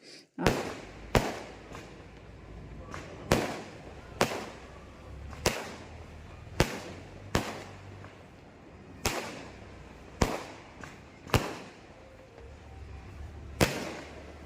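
Firecrackers set off near a house during a festival gathering with neighbours, popping as sharp loud bangs, about a dozen irregular cracks spaced a second or so apart over a low background.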